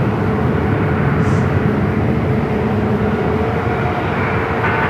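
A jet airliner departing from Phoenix Sky Harbor airport, a loud, steady, broadband engine roar that stays constant throughout.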